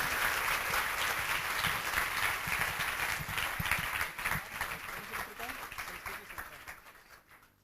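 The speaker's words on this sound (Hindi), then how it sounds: "जोरदार तालियों से मैं आप सबकी तरफ से श्रद्धेय को आमंत्रित करता हूं" A large crowd at an Independence Day gathering claps loudly, dense sustained applause that thins and fades out toward the end.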